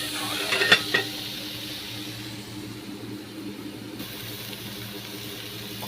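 Grated coconut warming in a pan with a faint sizzle, a brief clatter of a spoon against the pan early on, then a steady low hiss of cooking in a home kitchen.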